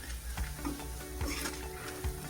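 Red chili chutney roasting in a hot tempering with turmeric, a soft steady sizzle with faint stirring scrapes throughout, no voices.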